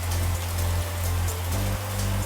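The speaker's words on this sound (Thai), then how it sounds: "น่าจะได้ยินเสียงฝนนะฮะ" Heavy rain pours down in a dense, steady hiss with a low rumble underneath, loud and continuous across the whole moment, no voices.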